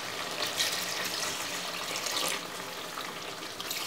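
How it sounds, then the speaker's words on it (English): Water poured into a pot of spicy curry chicken while it cooks, a steady splashing gush over a soft sizzle, fairly quiet and lasting several seconds. "I'm just gonna pour roughly 8 cups of water."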